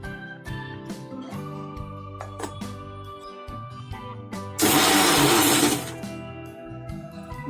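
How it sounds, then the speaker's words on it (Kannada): A kitchen mixer grinder blending coriander, mint and green chili for chutney runs in one loud, roaring burst of about a second and a half, set against quieter background music. "ಇದನ್ನ ಇವಾಗ ಮಿಕ್ಸಿಗೆ ಹಾಕೊಳ್ಳೋಣ."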